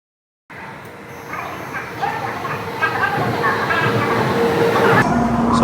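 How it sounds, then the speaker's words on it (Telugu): A Hikari Shinkansen bullet train pulls into a Japanese station, its rumble and hiss building steadily louder as it approaches, under nearby station ambience. "సో అదిగోండి వచ్చేస్తుంది ట్రైన్, వచ్చేస్తుంది."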